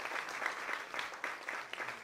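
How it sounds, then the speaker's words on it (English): Applause from an audience at a model search event for the contestants, a fairly faint, continuous patter of many clapping hands with slight surges, heard from a distance and steady for a couple of seconds. "I think they all deserve a round of applause when they are here"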